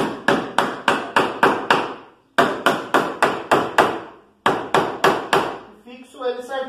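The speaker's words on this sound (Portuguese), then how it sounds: "Pego o martelo." Hammer tapping a nail into wood while building a cosmetics cabinet: three bursts of sharp, evenly spaced blows, about six or seven per burst, loud and close, with a short pause between groups and a brief murmur at the end.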